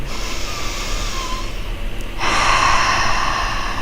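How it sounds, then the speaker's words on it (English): A slow, deep breath taken in and then let out, close and audible, the exhale louder and rougher than the inhale, with no talking. "So just breathe in and out."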